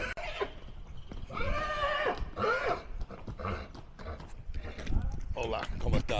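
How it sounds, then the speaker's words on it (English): Outdoors on the street abroad, a horse's hooves clop while it whinnies and snorts in several rising calls, close and lively, with people chattering throughout. "Beautiful horse. That horse is pretty as day."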